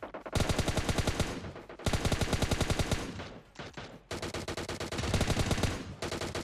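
Loud, rapid automatic gunfire from a PUBG Mobile match, in three long sustained bursts separated by brief gaps, close and dominating with no talk.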